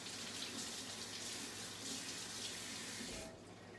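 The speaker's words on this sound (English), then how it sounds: "Always good to rinse your vegetables." Vegetables rinsed under a running kitchen tap, giving a steady hiss of flowing water that fills the sink and then tapers off near the end, with no voices.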